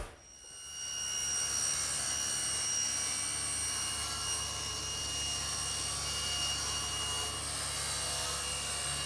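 A power saw cuts along a fence while building a workbench, spinning up to a sustained, loud, high whine that holds steady to the end with no talking.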